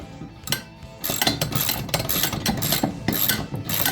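A hand socket ratchet tightens half-inch bolts while assembling a Bauer benchtop drill press, giving repeated close, crisp clicking bursts in a steady back-and-forth rhythm with no talking.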